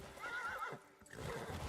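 A horse in the video game Crimson Desert gives a short, close whinny with a wavering pitch, then a brief snort or second call right after, with no talk over it.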